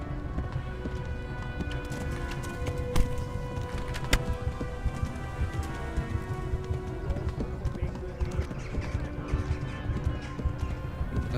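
Rapid rhythmic hoofbeats of a galloping horse in the video game Kingdom Come: Deliverance, steady and continuous, with a layer of background game sounds and music.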